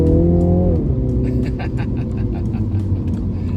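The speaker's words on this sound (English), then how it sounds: "Hear the exhaust?" A 2019 Mini Cooper Clubman John Cooper Works ALL4 engine revs and then settles into a throaty exhaust rumble while driving, loud and close, with some faint rattles over it.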